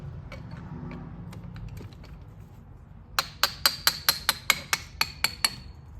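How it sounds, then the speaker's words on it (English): Screwdriver shimming and prying a lunchbox locker into place in a Super Duty Dana 60 rear axle: after a quiet stretch, about ten sharp metallic clicks follow one another at a steady, quick pace, close and distinct. "I actually have to shim between the locker with the screwdriver a little bit"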